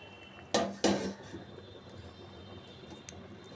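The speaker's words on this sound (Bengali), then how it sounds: "এবার আমি ঢাকা দিয়ে রেখে দেবো।" A metal lid clatters onto a cooking pot of egg bora curry in a home kitchen, two sharp close clanks in quick succession followed by a faint light tap, with no one talking.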